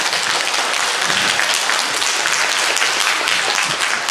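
Loud, continuous applause from a large crowd at a Razgrad Philharmonic concert fills the whole stretch, steady and unbroken.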